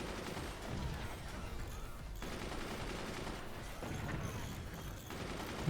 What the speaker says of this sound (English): Machine gunner on machine gunner violence.